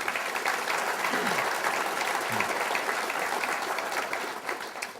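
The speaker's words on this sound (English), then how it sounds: "If we could please have a round of applause for our panel" Audience applause for a panel at a civic event about the PGA Tour coming to Wilmington, a steady dense wash of many hands clapping throughout, with a faint voice briefly audible underneath.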